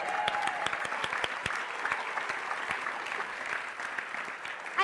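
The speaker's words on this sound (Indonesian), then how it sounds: "Kalau segar tepuk tangan dong." A small studio crowd claps steadily and fairly loudly for about five seconds, with dense overlapping handclaps on an Indonesian variety show set, a few sharper claps standing out and a brief louder burst at the very end.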